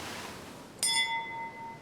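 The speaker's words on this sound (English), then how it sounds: "The passage of time was marked on board ship by the ringing of the bell." A single bright metallic ship's bell strikes once and rings out with a clear, lingering tone over a quiet background.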